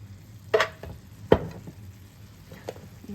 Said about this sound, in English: I also like to add a little bit of regular cooking wine. It's just a cheap Chardonnay, about 1/2 cup.